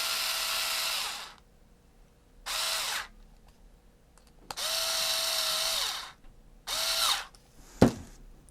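Small power screwdriver tightening a screw on a Makeblock Ultimate robot kit, loud close bursts of motor whine: four runs of one to two seconds separated by pauses, then a sharp click near the end.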